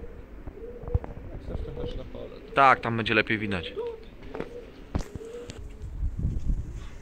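Pigeons at a large outdoor market in Mszczonów coo in a brief throaty burst amid market bustle, with other bird calls and people talking nearby.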